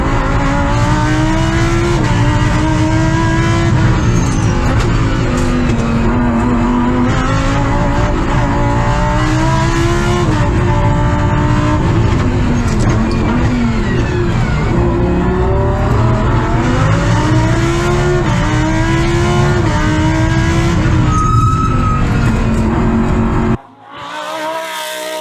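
A circuit-built race car driven by Jiří Mičánek at the Zámecký kopec hill climb roars continuously at close range, its engine rising and falling through revs and gear changes for the whole run before cutting off abruptly near the end.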